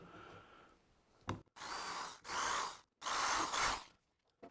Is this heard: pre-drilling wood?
yes